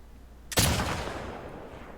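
A single sharp rifle shot fired at a sign in The Last of Us Part 2 cracks out of quiet and leaves a rumbling, echoing tail that fades slowly.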